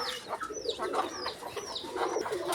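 Pigeons kept with newly hatched chicks coo repeatedly at close range, with soft, rhythmic, rising-and-falling calls and a few clucking notes in between.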